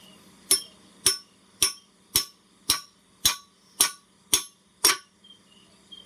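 Ten sharp metallic hammer strikes ring out at an even, unhurried pace, each one clanging bright and close against a quiet hum.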